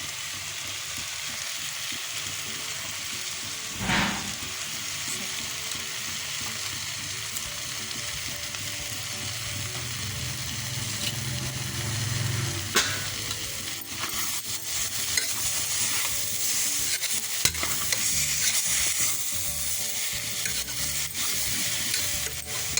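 A green gram curry paste fries in a pan while being mixed, giving a continuous close sizzle with scraping and knocking of the spoon against the pan throughout.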